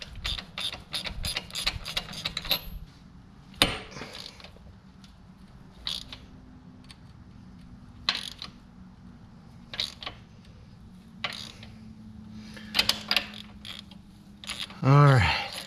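A ratchet wrench clicks in short, close bursts while turning out a long bolt on a Corvair engine, with creaking pauses between strokes and a louder squeak near the end.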